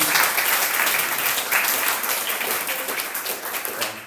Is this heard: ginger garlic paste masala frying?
no